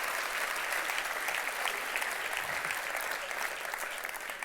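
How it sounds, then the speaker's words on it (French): Sustained applause from a gala audience fills the room, steady and dense throughout without a break or voices standing out. "Une bonne main d'applaudissements, oui."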